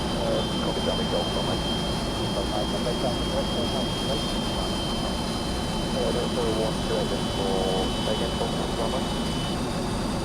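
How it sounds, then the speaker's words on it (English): Avro Vulcan XL426 jet bomber taxiing onto a runway gives a steady, continuous jet engine roar with a high whine throughout, while a person talks over it. "So we taxi forward onto the numbers of the runway there."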